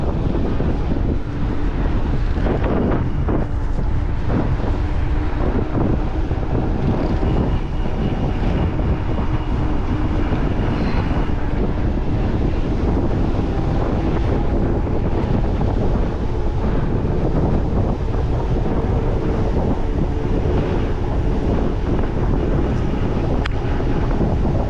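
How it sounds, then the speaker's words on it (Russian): Strong headwind roars and buffets the microphone nonstop during a downhill ride in Crimea, a loud, rumbling rush that drowns out everything else. "Встречный ветер"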